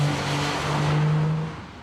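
A 2007 Infiniti G35 engine pulling hard under throttle, a loud steady drone rising then easing off, close and without talk.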